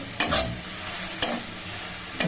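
Bottle gourd sizzles steadily as it fries in ghee for rice pudding, with a scraping stir roughly once a second cutting through the continuous crackle, close by and with no voices.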